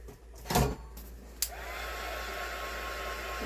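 A heat tool blows steadily to melt stray threads on a handmade chipboard card, a constant airy whoosh that switches on about halfway through and holds alone after a couple of brief knocks and rustles.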